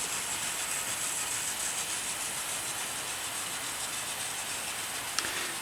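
Model 0-6-0 locomotives, a Collett and a Drummond 700, running together on a curving layout track, a faint continuous hissing rumble with no voices.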